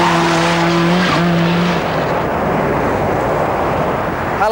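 A 500-horsepower Ford Sierra race car roars loud and close with a high engine whine, then a long tire screech and skid rushes over the engine as it slides, filling the whole stretch, with no talking.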